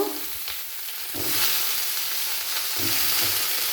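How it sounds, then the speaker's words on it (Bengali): Large diced potatoes frying in a kadai after onions, a continuous close sizzle that rises and falls as they are stirred, with a few soft scrapes and no voices. "আলুগুলো লাল করে ভেজে নেব"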